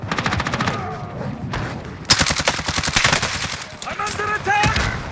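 Gunfire in Call of Duty Warzone, rapid bursts of automatic weapon fire, dense and loud, with continuous volleys and short pauses, and voices talking over parts of it.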